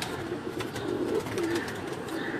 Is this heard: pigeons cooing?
yes